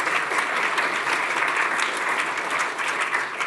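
An audience at a Chatham House climate event claps for the speakers, continuous even applause at steady volume with no voices over it.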